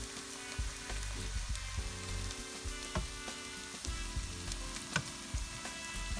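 Roast beef hash made from leftover prime rib, with eggs frying in indentations in a pan on medium-low heat, giving a close, continuous sizzle with scattered pops and crackles and no talking.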